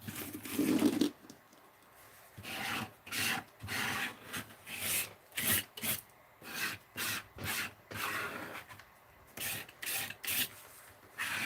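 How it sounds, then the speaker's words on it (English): Repeated short scraping strokes working a layer of wax off a card, about a dozen quick rasping bursts in an uneven rhythm, close and fairly quiet, with no voice over them. "Now I'm just scraping it so because I'm gonna put it in the center of that card, and I don't want it to be totally waxy."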